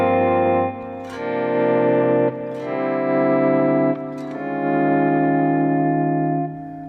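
An electric guitar played through a Morley M2 pedal produces smooth chord swells that fade in and sustain, repeated several times with soft pick attacks and no talking.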